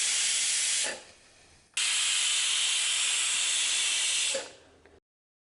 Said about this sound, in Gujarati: અહીંયા કુકરમાં સીટી થઈ ગઈ છે.